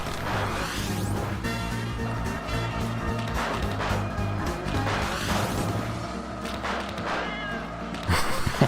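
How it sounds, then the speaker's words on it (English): Cartoon cat meows and caterwauls in the Garfield Kart racing game, repeated loud yowls over constant game music and engine noise. "there's cat sounds in the game I'm playing"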